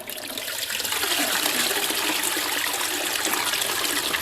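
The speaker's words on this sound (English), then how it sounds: "It is a toilet flushing." A toilet flushing: a loud rushing surge of water that builds within the first second, then holds as a steady, close, continuous gush.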